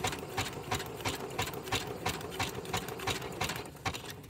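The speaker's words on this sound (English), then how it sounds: "And I will just backstitch." Sewing machine running steadily while backstitching on paper for a music paper envelope, a close, continuous mechanical whir with a fast regular needle rhythm throughout.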